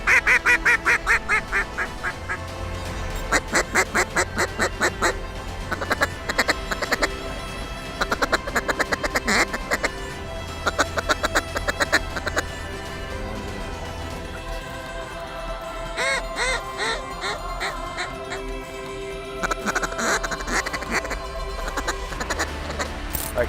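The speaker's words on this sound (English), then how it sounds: "You're seeing ducks approach from this way and geese from this way." Ducks and geese fly in over a Canadian hunting spot, filling the air with busy, repeated quacking and honking that keeps going in overlapping clusters throughout.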